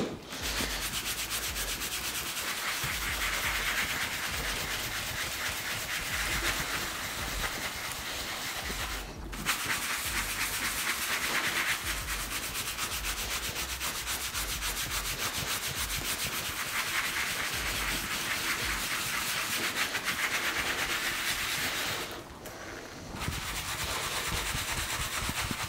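A brush scrubs shampoo into a car's leather seat, working into the seams with a steady, close, continuous rasping rub that barely pauses over nearly half a minute.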